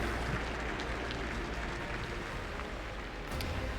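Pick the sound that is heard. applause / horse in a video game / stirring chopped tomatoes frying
applause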